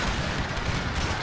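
Musket volley fire from massed line infantry in Empire Total War, a dense continuous crackle of overlapping shots with low booming rumble, loud and sustained without pause.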